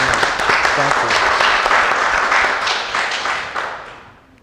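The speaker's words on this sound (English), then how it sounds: "Please give him a round of applause" Audience applause for a Grand Marshal at an event, a dense burst of many hands clapping at close range that swells briefly and then fades away toward the end.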